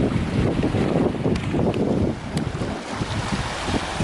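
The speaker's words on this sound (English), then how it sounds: "Listening to the ocean" Wind buffets the microphone beside the ocean at a Jamaican shore, with a steady roar of waves and surf filling the whole span, loud and close, and no voices.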